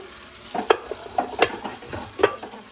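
New IKEA dishes and utensils are rinsed in warm water at a home sink, with water splashing and three or four distinct clinks of crockery or cutlery, close and fairly quiet, no talk.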